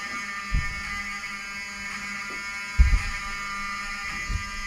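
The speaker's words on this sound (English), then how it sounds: "I want them to hear the fire alarm" A fire alarm in a hotel building near Washington, D.C. buzzes steadily at a constant moderate level, with a few low thumps and bumps breaking through.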